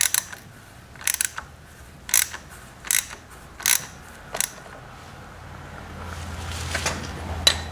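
Hand tool working the nut on a K&N oil filter on a Yamaha R6 motorcycle, giving a few sharp ratcheting clicks in separate bursts, close and fairly loud, with quieter handling noise between them and no talking.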